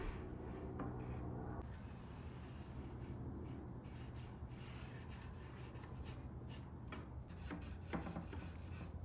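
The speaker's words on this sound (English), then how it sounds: "I'm using some Howard's Feed-In wax to condition all of the wood underneath, all of the rails and tracks, just so everything slides nice and smooth" Howard's Feed-N-Wax being rubbed by hand onto the teak wood rails and tracks of a 1970s Danish mid-century dining table, a soft continuous scrubbing hiss with faint scattered ticks, quiet and close.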